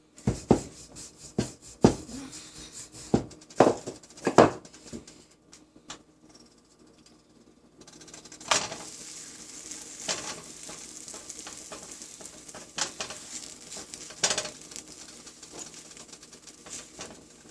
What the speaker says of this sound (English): So my skillet is already hot. So I'm just going to put the paratha in that.